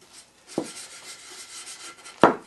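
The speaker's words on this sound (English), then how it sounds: "you typically rub against the grain to start off with so that you get the material into all of the pores" A cloth rubs a waxy oil finish into wood across the grain, giving two brief, distinct scuffing strokes over a quiet background.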